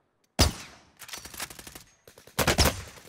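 Video game gunfire arrives as a loud burst of shots, followed by a rapid rattling volley, then another sharp cluster of shots, with short silent gaps in between.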